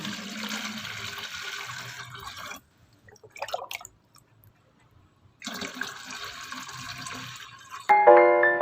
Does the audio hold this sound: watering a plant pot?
yes